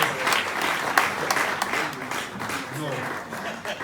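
Applause from an audience at the SAMA 2019 awards event: dense, sustained clapping from a crowd, fairly close and steady throughout, with voices mixed in underneath.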